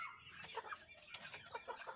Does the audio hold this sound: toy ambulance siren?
no